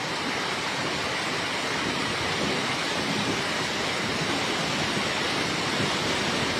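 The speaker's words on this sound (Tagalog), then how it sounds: "Ayan. May baha. Ang lakas." Strong floodwater rushes in a continuous, even roar of broadband noise with no breaks or voices, steady throughout at moderate loudness.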